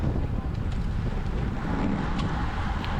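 Steady roar of headwind buffeting the microphone during a bunch sprint in a criterium road race in the French Alps, loud and continuous across the whole stretch with no clear voices.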